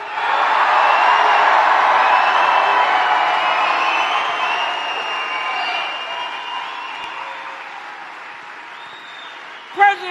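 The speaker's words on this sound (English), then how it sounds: "Let's give him a round of applause." Crowd applauding and cheering at a Donald Trump event in Juneau, loud and sustained at first, then gradually tapering off, with scattered whoops and a sharp bump near the end.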